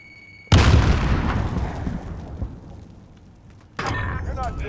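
A thrown grenade in Call of Duty Modern Warfare detonates with a single loud, sudden boom that rumbles and fades over about three seconds, followed by renewed game noise.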